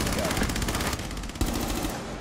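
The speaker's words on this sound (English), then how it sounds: "Solus, who has a P90, is hitting more shots than you" P90 gunfire in a video game, a loud rapid burst of automatic shots with a brief pause and a final shot, heard close up.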